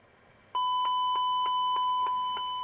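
A run of short, identical electronic beeps from a Power Computing Mac clone at startup sounds at an even pace, about eight in a row, over a quiet background hum.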